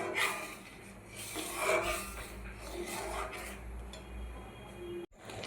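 A utensil scrapes and rubs steadily against a pan while mango and sugar are stirred over a medium gas flame, a continuous close rasping with faint clinks.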